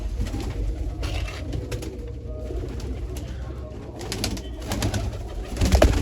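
Pigeons cooing nearby in a rural Punjabi setting, low repeated coos over a busy, rumbling outdoor background.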